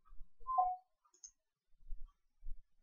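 Computer mouse clicks, a few soft close clicks spaced about half a second to a second apart over near silence.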